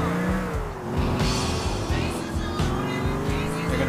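A car in Grand Theft Auto 4 revving hard with tires squealing, a loud continuous engine whine layered with screeching rubber, a voice occasionally speaking underneath.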